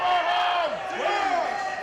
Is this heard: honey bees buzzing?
no